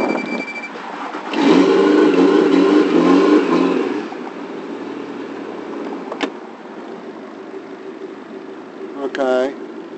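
A Suzuki DF four-stroke outboard motor that has had starting trouble is given throttle. It roars into a loud, sustained rev for a few seconds, then drops back to a quieter idle hum with a few brief clicks and a whine near the end.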